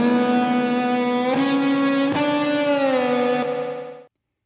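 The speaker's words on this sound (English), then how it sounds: "So if we want a mono reverb, we just go to one spring." A sustained distorted guitar chord washed in mono spring reverb from the HoRNet SpringVerb plugin set to one spring, with a few note changes that ring out before the sound stops abruptly.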